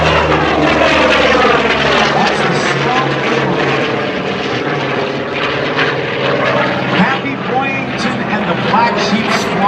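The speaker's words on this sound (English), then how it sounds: "from the right, here comes the Corsair" A Vought Corsair propeller fighter roars past at an air show, its loud, rough engine drone filling the whole stretch with a sweeping pass and broad outdoor rumble.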